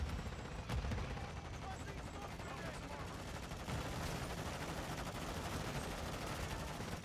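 Dense, continuous gunfire from Call of Duty: Modern Warfare III, rapid automatic bursts and explosive booms overlapping in a chaotic, loud in-game firefight that never lets up.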